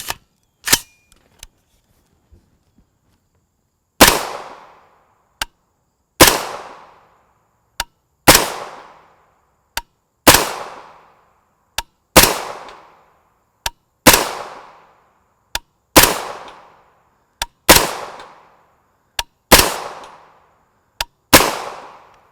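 Rifle shots from a 300 AAC Blackout firing subsonic Sellier and Bellot 200-grain FMJ rounds crack out one at a time, a dozen or so loud reports spaced about two seconds apart, each followed by a brief decaying echo and a fainter click.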